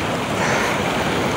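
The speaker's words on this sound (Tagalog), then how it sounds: "ayun malaki ang alon eh" Big ocean waves break at the shore at a fishing spot in a continuous loud roaring wash, mixed with heavy wind buffeting, with no voices.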